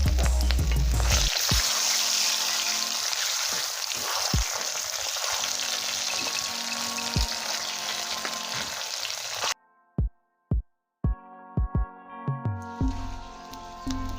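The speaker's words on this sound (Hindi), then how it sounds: "अंडे को डाल देते हैं तेल में, अच्छे से फ्राई कर लेते हैं।" Eggs fry in hot oil in a pan for aloo and anday ki sabzi, a loud, steady broadband sizzle that cuts out near the end, followed by a few sharp clinks and scraping sounds of the pan.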